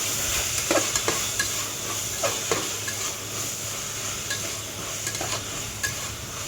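Tomatoes and ginger sauté in a frying pan with a steady, close sizzle, broken by repeated scraping strokes of a spoon stirring against the pan.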